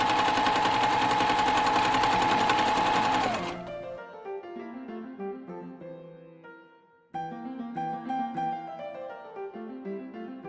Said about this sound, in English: I can just continue chain piecing my 4 patches